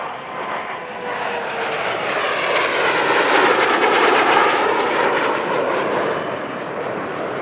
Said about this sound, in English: Here, it's just part of a four-ship formation pass